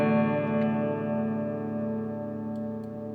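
An Epiphone Special II electric guitar rings out a sustained chord through reverb and delay, with dense shimmering overtones that hold and slowly fade, played alone.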